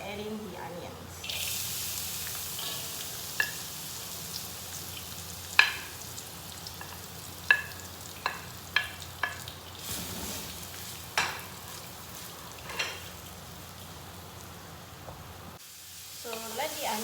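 Onions frying in oil with cumin and mustard seeds, a steady sizzle under a voice, punctuated by scattered sharp pops and spatters and a few spoon scrapes, with running water briefly in the background.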